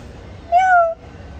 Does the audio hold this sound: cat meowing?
yes